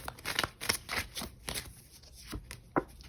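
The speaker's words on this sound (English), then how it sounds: "Just shuffling away from the camera because I know it can get pretty loud." Tarot cards shuffled in quick bursts of riffling and slapping, somewhat muffled and set back slightly, with no voices.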